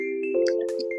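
A small handheld bell in a classroom game gives a bright ding that hangs as a sustained ringing tone, with faint clinks and rustles of movement around it, close and short.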